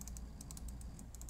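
Quick, quiet typing on a computer keyboard entering map widget coordinates, a rapid run of soft key clicks in small clusters, low in level with steady background hum.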